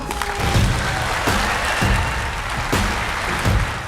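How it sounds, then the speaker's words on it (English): Audience applause, a dense continuous wash of many hands clapping at a steady level throughout, with no voices rising above it. "Huge applause to Dr."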